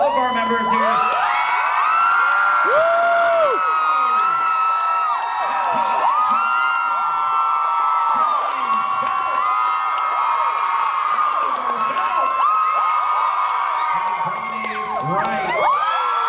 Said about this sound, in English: We're going to have one more final big applause for all of our members here.